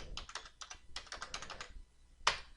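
Quick bursts of keystrokes on a computer keyboard, a cluster of light clicks followed by a pause and one sharper final tap, close and fairly quiet.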